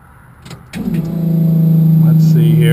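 A twin-turbo LS-powered Z28 cranked at a drag racing event, a starter-like drone that builds and holds steady, loud and close, after a few clunks, with a person talking over it.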